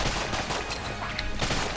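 A continuous barrage of gun bullets fires in the video game Enter the Gungeon, dense and loud throughout with rapid overlapping shots and no voice heard.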